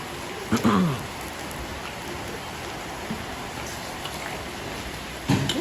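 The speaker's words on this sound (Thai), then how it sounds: "ฝนตกทั้งวันเลยครับ" Steady light rain patters throughout, with a couple of brief louder splashes or knocks near the start and end.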